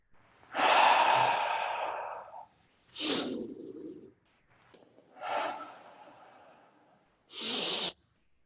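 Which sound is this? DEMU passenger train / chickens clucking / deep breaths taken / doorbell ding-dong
deep breaths taken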